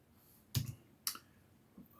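A few separate keystrokes click on a computer keyboard while typing into a Python shell, two sharp close taps and a fainter third, with quiet gaps between.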